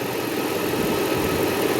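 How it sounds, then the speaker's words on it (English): A 1995 Mercedes SL500 AMG engine idles steadily, close and fairly loud, a smooth continuous hum warming up after an engine wash, with no voices. "I'm just warming up the engine to vaporize whatever remaining water in any cavities"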